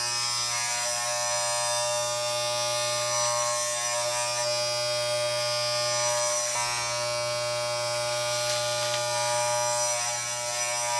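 A Wahl Elite Pro electric hair clipper fitted with a 3/8-inch number 3 guard buzzes steadily and close up while trimming hair, a constant droning hum with no talk.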